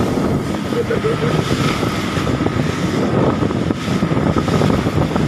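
Strong wind blows across a fishing boat at sea, a loud, steady roar that buffets the microphone without a break and covers any other sound.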